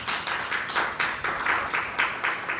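A church congregation claps in unison, a steady rhythmic beat of loud, full claps roughly four per second, ringing in a reverberant room without speech.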